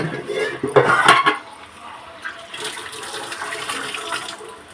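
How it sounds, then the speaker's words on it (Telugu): Rinse water being poured into a mixer grinder jar while making tamarind juice for a fish curry, heard as a splashing pour with some clattering of the vessel, close and fairly loud, then a softer steady trickle. "చక్కగా కడిగే వాటర్ పోసుకొని మిక్సీ గిన్నెలో పోసుకుంటున్నాను"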